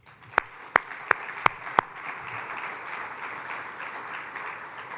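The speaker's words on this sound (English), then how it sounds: "Let's give Shannon and the Chamber a round of applause." Conference audience applauding at a 2023 Midwest cybersecurity summit, heard as a few sharp, loud single claps near the start, followed by a softer sustained crowd clap that carries on to the end.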